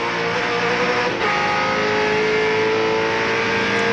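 A 1997 V8 Supercars Ford Falcon race car engine roars loudly and continuously from close by at Calder Park, a dense droning growl with a steady high whine.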